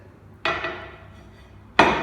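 Two sharp, hard knocks of a flat glass pane, used as a sanding surface for sharpening a chisel, set down on a table, each with a brief ringing decay, close by.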